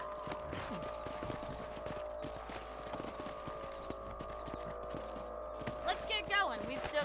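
Horses' hooves clip-clop in a steady rhythmic trot in the video game Red Dead Redemption, fairly quiet, over light background music, with a horse snorting near the end.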